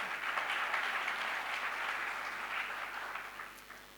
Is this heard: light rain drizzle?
no